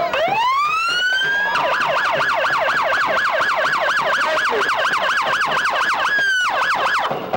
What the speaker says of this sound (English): That's the only time I want to hear that siren